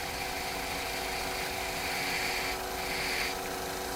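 A billiard cue tip being scuffed with 80 grit sandpaper, a steady close rasping hiss that holds evenly and swells slightly near the end, with no talking.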